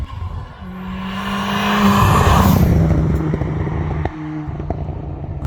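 A 370 bhp Ford Fiesta ST hot hatch drives with its sport mode engaged, the engine droning and climbing in pitch through a rev build, then easing off and picking up again, loud and close.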